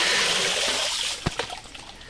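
Freshly caught fish from a monsoon paddy-field net in Kuttanad are rinsed in water: a steady rush of running water fades after a second into a few close, distinct splashes and trickles.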